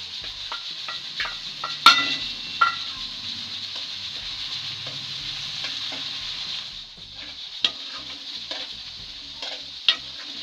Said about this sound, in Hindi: अब इसमें लहसुन अदरक और सब्ज मिर्च का पेस्ट ऐड कर देंगे।